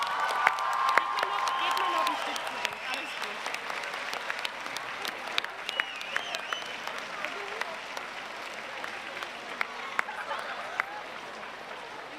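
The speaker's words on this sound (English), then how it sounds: "give a big applause for Finn Wolfhard" A large comic con crowd in Dortmund applauds and cheers loudly and continuously, dense clapping with scattered whoops and shouts, sustained for the whole stretch without pause.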